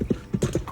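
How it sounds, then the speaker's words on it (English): Hooves of a small Shetland pony clatter quickly up an aisle, four sharp clip-clop hits in under a second, close and distinct. "As a horse careens up the aisle, and she is on it."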